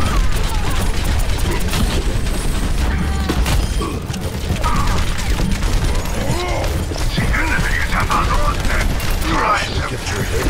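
Overwatch weapon fire in a busy match: dense bursts of gunfire, crashes and mechanical clatter run steadily for about ten seconds, loud and close, with voices talking over the game sounds.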